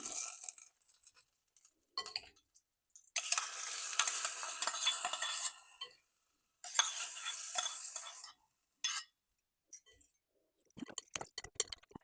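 Cumin and curry leaves crackle and sizzle in hot oil in several bursts for a cucumber mustard chutney, with a spoon clinking and stirring in a pan between the sizzles.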